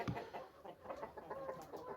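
Chickens cluck and chatter steadily at close range, a busy layering of short clucks over soft background noise.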